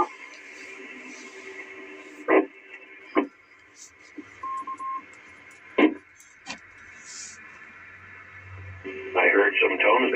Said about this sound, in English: I heard some tones there like somebody was trying to check in a link or a node